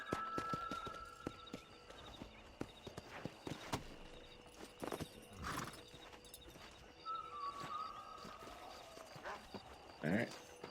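Horse hooves clip-clopping in the video game Red Dead Redemption, a steady trotting rhythm with occasional whinnies, while someone talks over the gameplay.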